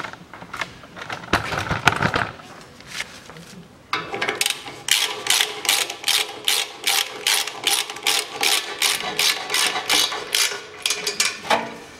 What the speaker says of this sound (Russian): Также наживляем сзади и затягиваем.